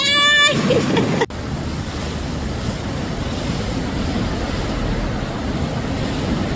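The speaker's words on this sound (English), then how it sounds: "Mini Cooper drifts downstream during floods in France." Floodwater in France rushes steadily downstream, carrying a Mini Cooper along, a broad, continuous roar of churning water that holds loud and even after a short burst of voices at the start cuts off.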